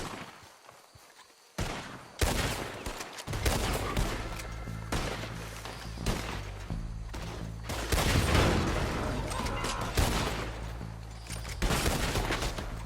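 Gunfire from a Western-era shootout in the video game Red Dead Redemption 2, with rapid shots and bursts layered over music and action sounds, loud and continuous through most of the stretch.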